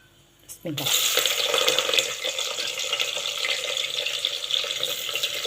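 Onions dropped into hot oil with cinnamon, cloves and cardamom for mutton biryani, a quiet moment then a sudden loud, steady sizzle and crackle that carries on close up without pause.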